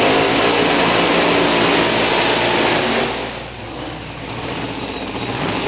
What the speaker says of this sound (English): Yeah, this will be the loudest drag race of the weekend right here.